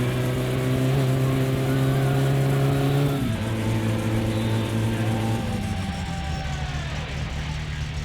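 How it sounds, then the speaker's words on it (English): Loud, open-piped car engine with no exhaust fitted in the driving game My Summer Car, droning steadily, then dropping pitch in steps as it shifts or eases off, continuous throughout. "I've got no exhaust on the car right now."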